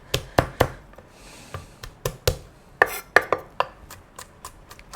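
A knife chops garlic on a cutting board in an irregular run of sharp, close knocks, some in quick pairs, with brief pauses between strokes.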